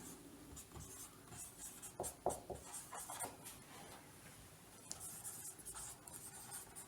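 Pen or chalk scratches and taps steadily while writing by hand during a physics lesson on convex lenses, in close, faint strokes with short pauses and no speech.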